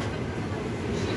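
A train runs along the rails, a steady low rumble heard close up from on board for a brief moment.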